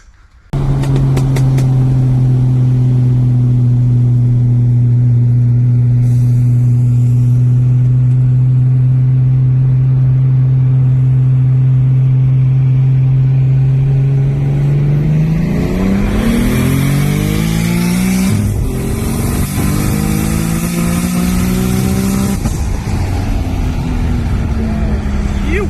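Roll racing cars accelerating hard in a Brisbane race: a loud, steady engine drone holds for about fifteen seconds, then several engines rev and rise together in overlapping sweeps, with a voice talking over the din.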